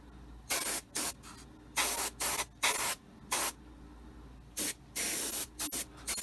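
A spray paint can applied in multiple light coats, giving a dozen short, loud hissing bursts of roughly half a second each, separated by brief pauses.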